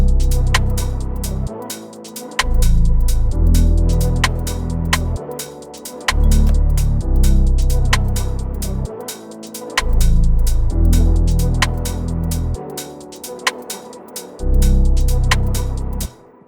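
Deep 808 bass notes in an RnB beat, set with a short release so some notes cut off abruptly, pulsing in a loud rhythmic pattern under crisp hi-hats and percussion, with no voice.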